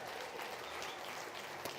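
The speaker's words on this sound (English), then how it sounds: "Give them a big round of applause." Audience applause at a North Idaho State Fair market goat and swine showmanship finals, with a short, muffled wash of clapping from an arena crowd at moderate distance.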